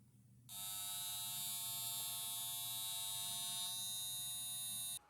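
A steady 100 Hz test tone plays through a loudspeaker, starting abruptly after half a second and holding at constant, loud level with a buzzy harmonic edge before cutting off near the end.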